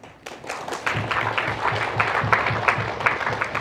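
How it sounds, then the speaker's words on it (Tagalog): Audience applause at a talk on cooperatives, a short burst of dense clapping that swells quickly and holds steady for a few seconds without speech over it. "Ang bawat palakpak ay sa inyo."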